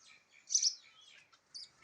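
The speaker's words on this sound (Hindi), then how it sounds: "मेरे बगीचे में बहुत सारी चिड़ियाँ हैं," Small birds chirping in a garden, a few quick high tweets with one louder burst near the middle, faint and fairly distant, with no voices.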